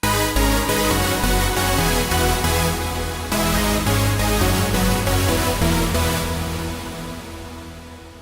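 Trance synth lead modeled on a track, playing a dense, loud, continuous riff of rapid rhythmic notes over a full mix, dipping briefly midway and slowly fading toward the end.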